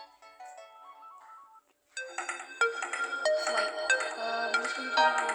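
A Samsung A03 ringtone plays alone at low volume, a soft melodic phrase that cuts out briefly before a fuller, song-like piano-based tune with layered bright tones continues steadily.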